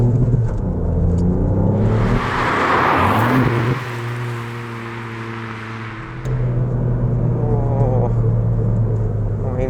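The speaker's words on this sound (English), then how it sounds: "drop it to second, and the exhaust will be going bam, bam, bam, bam, bam" A Ford Fiesta ST hot hatch passing at just over 40 mph and downshifting to second gear: a loud, steady engine drone, a whooshing swell as it goes by, then the revs drop and climb again.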